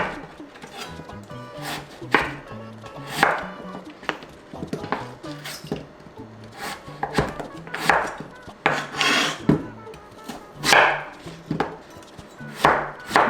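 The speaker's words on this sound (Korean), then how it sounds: "얇게 썰어서 넣을게요." A knife thinly slices radish on a cutting board in a home kitchen, making a steady series of crisp, close chopping strokes in an uneven rhythm.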